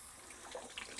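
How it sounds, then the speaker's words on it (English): Tap water runs steadily while a Golden Doodle's ears are rinsed during a bath, a continuous close hiss of flowing water with no talking. "I could still run the water and show you guys"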